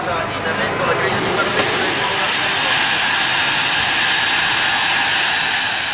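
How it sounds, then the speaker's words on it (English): A private jet arriving at Milan gives off a loud, steady roar of jet engines with a broad hiss that swells slightly and holds for several seconds. "Ayrton Senna flies into Milan in his own private jet."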